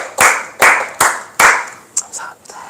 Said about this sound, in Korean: 우리 위대하신 주님께 박수로 영광 돌려드렸으면 좋겠습니다.